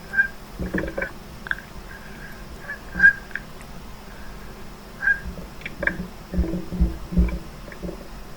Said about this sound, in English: there are lots of birds here if you're a bird watcher.